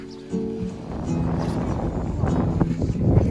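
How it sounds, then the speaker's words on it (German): Strong wind gusts across an open area in Aguergour, Morocco, giving a loud, continuous broadband rush with buffeting against the microphone that builds toward the end. "Der Wind bläst bis am Abend super stark."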